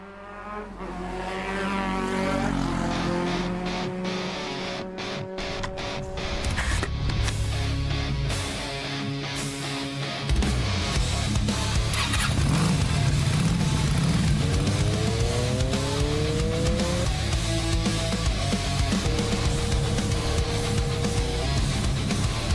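Motorcycles roar and accelerate away on asphalt at the start of the riding season, loud rising engine revs with gear changes over about twenty seconds, partly layered with music.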